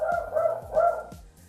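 Daisy, a dog, lets out a run of three barks in a steady rhythm, close and fairly loud, then trails off into quiet room tone.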